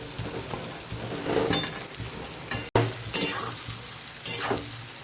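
Onion and cabbage sautéing in a pan as dhokla pieces are tossed in and stirred, a steady sizzle with scraping stir strokes and a short sharp break midway.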